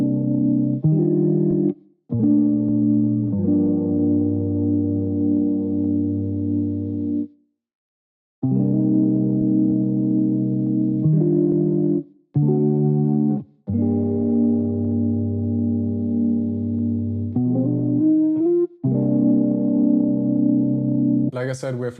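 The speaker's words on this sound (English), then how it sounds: "this is what the guitar sounds like" Electric guitar chords in 3/4 time at 140 BPM for an R&B sample, sustained warm chords with chorus and echo effects ringing in held blocks separated by short silences.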